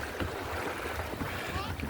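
A canoe kayak is launched into the sea off Chalkidiki: a rough wash of water and wind with scattered knocks and splashes, and voices talking over it nearby.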